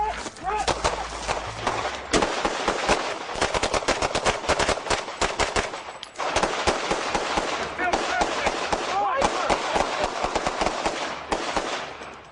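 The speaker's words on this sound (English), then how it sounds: "Did you hear the shotgun on the side of you?" Rapid bursts of gunfire crack loudly and close, dense volleys of shots repeating almost continuously with a brief lull near the middle, with no talk over them.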